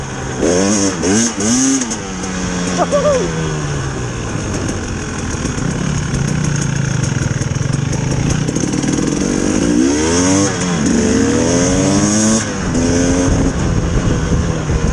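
KTM enduro motorcycle ridden through mud, a 2019 KTM 300 EXC TPI or 2016 KTM 350 EXC F, revving hard with wheelspin, loud and close, the engine note climbing and falling in repeated surges.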